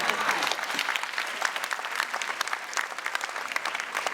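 Audience applause at a conference on a whole-of-nation approach to the sustainable development goals: a dense, loud, sustained round of clapping from a large crowd, steady throughout.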